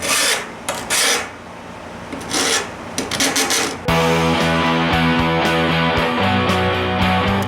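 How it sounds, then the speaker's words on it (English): Rhythmic rasping strokes of hand sanding on a Garelli moped, prepping for paint, steady back-and-forth scraping; a low droning hum joins partway through. "Now is the long, arduous task of prepping and sanding for paint"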